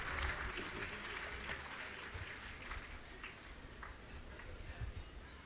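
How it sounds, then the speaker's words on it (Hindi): An audience at a religious gathering with Muni Shri Praman Sagar applauds loudly, a dense, continuous wash of clapping heard from a distance with some crowd murmur underneath. "हम सब लोग जोरदार तालियों से अभिनंदन करें।"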